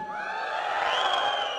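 An audience at a corporate awards event cheers and whoops in a sustained loud swell of mixed shouting voices, close and continuous for a short burst.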